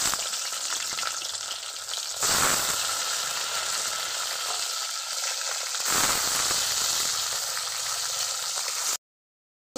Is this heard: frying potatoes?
yes